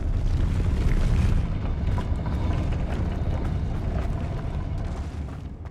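A Depulso force spell bursts in Hogwarts Legacy, a heavy booming blast that rolls into a deep, rumbling wash and slowly fades, loud and with no talk over it.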